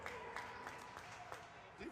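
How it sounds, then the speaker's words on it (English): A crowd at a junior varsity high school hockey game cheers and applauds in the final seconds. The noise is faint and distant, and a commentator talks over it. "The crowd's going crazy."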